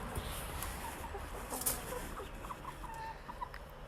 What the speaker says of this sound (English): We just picked up our first lot of chickens.